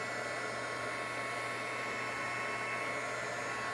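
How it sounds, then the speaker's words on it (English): A heat tool runs steadily at close range, melting black embossing powder on a card to a shiny finish, a constant even blowing whoosh with no pauses for nearly four seconds. "So you just take your heating tool, hold it close till it starts changing color, and you see it going to a shiny black."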